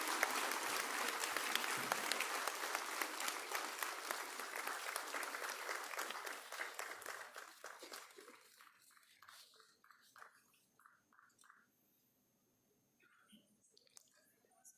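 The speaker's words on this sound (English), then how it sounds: "A huge round of applause for all the recipients" A crowd applauds award recipients at a university research and innovation awards ceremony. The clapping is dense and steady at first, then thins out into scattered claps that trail off to near silence.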